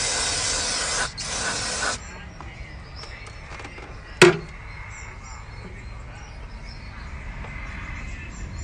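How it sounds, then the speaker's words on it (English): Throttle body cleaner sprayed from an aerosol can onto a VW MK4 Bora engine: two close, loud hissing bursts totalling about two seconds, then a single sharp knock later. "we spray now with the throttle body cleaner first"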